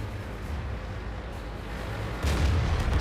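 Tank cannon fire and battle rumble from a World of Tanks match with an AMX M4 45, a steady low boom-laden din that swells louder near the end, with no voices.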